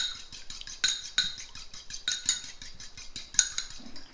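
Milk being mixed in a bowl with a utensil, quick light clinks and scrapes in an irregular rhythm, close and fairly quiet, with no talking.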